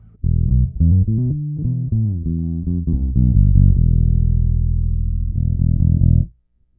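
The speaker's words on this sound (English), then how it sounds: "now I'm going to roll the tone off the neck pickup and not touch the bridge." Guild Starfire II electric guitar on the neck pickup with the tone control rolled off, a run of warm, dark notes and a held chord ending with a final strum, close and loud, with no talking.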